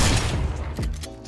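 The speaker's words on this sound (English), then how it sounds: "So first off, we have the drum shotgun," A drum shotgun fires in the video game Fortnite, a loud close blast with a booming tail followed by a couple of fainter mechanical clicks, no voices.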